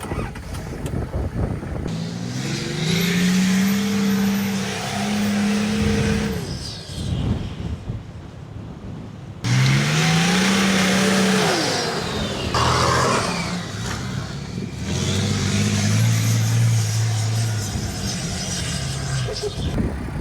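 An off-road vehicle attempts a hill climb on a rough track in Tasmania, its engine revving loudly in repeated rising bursts with brief lulls, close and aggressive, with some voices briefly under it.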